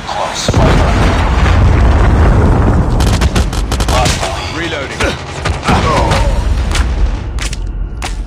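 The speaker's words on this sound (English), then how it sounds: "Hostile Predator missile inbound." A Predator missile strike in Call of Duty Mobile ranked play lands as a heavy, rumbling blast lasting a few seconds. Close, sharp bursts of gunfire and pops follow.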